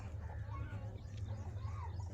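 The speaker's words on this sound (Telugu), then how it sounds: "ఇవన్నీ నా పెట్టలు ఇవి బ్రీడింగ్ పెట్టలు" Breeding hens on a farm cluck softly and intermittently over a steady low hum, faint and somewhat distant throughout.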